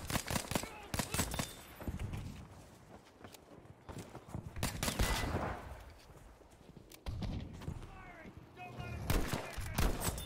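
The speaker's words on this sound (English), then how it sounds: "I love the quick fire rate on this gun." Tromboncino rifle gunfire in Battlefield 5 multiplayer, with a rapid series of sharp shots near the start and more shots later, set among game effects and busy battlefield noise, with a voice talking over parts of it.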